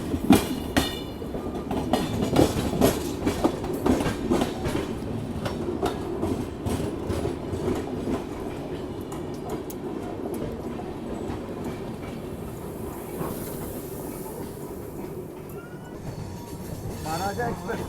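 The Uttaranchal Sampark Kranti express, Kathgodam to Delhi, rumbles past at close range with rapid clickety-clack of wheels over rail joints and a steady roar, people talking over it.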